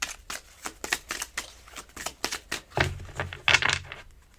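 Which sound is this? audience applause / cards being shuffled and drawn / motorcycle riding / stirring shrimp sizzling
cards being shuffled and drawn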